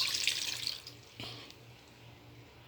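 Water poured over leaves for homemade herbal tea, a soft trickling hiss that fades after a moment, followed by a brief splash and a small clatter at the end.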